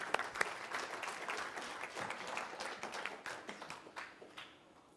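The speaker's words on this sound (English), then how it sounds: "Give me a round of applause." A round of applause from the audience at a talk on authentic living, dense clapping that fills the room and then thins out and fades toward the end.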